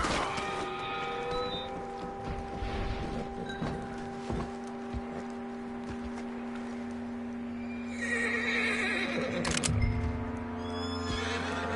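A horse in the video game Red Dead Redemption II whinnies loudly and neighs several times with hoof clip-clops, a close, agitated series of calls over steady game ambience.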